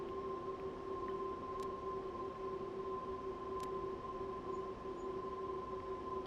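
A DB Class 187 electric locomotive in Train Sim World 3 hums steadily from its cab, with two strong sustained tones over a low rumble and a couple of faint brief clicks, no talking.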